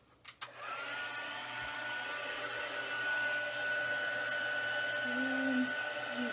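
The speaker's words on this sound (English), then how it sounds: "so we're going to heat emboss this again" A heat embossing gun blows steadily over a card with shimmer paper in a craft setting, giving a constant airy whoosh with a faint whine that holds for about six seconds after a couple of soft knocks.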